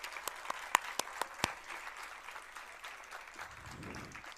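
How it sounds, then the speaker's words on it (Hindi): An audience at a talk on bamboo industry and self-reliance claps. A few sharp, separate claps come first, then the applause thins out into quieter, softer clapping toward the end. "इन सबके लिए एक बार जोरदार तालियां हो जानी चाहिए।"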